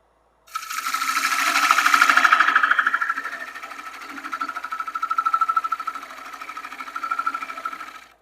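A wood lathe turning a box elder blank with a hand turning tool, a steady whirring hum with a rhythmic chattering buzz that swells and eases as successive cuts are taken, with no talking.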